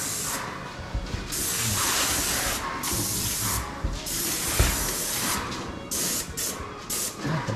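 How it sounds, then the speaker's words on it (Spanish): A paint sprayer works on a Philippine home-building site, giving off a loud, near hiss in long continuous passes broken by brief pauses, with no talking. "Spray."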